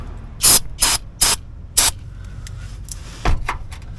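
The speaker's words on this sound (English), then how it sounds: "Again, another spritz, which I may be getting all over you." A spray bottle spritzes into a stripped bolt hole: four quick, loud, crisp spritzes close together, then a pause and one more spritz, each a short hissing burst.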